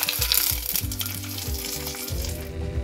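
Hot tempering of mustard seeds, four dried red chillies and curry leaves poured over an Onam sadya grape pachadi, giving a loud, steady sizzle with crackling pops throughout, close up and without any voices.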